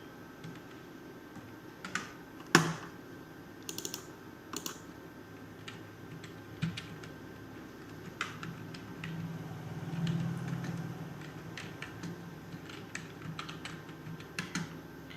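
Sparse, quiet keystrokes on a computer keyboard while working on a table of contents in MS Word, coming as scattered clicks and short bursts with a few louder taps, over a soft steady background hum.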